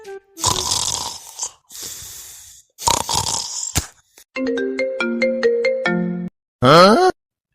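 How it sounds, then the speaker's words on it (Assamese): A mobile ringtone goes off in the middle of the night in an animated comedy scene, a loud close electronic melody of repeated notes lasting a couple of seconds, set between bursts of exaggerated snoring. "এই মাঝ ৰাতি কোনে ফোন কৰিছেনো"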